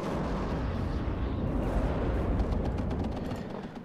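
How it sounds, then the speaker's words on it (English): Harrier rocket strike in WARNO, a dense rumbling barrage of blasts and crackling impacts, loud and sustained for a few seconds before easing slightly. "Harrier rocket coming for that engineer flash"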